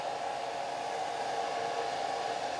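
A hair dryer blows steadily on a watercolor painting of a tree, drying the wet paint; a continuous, even whoosh with no breaks and no talking.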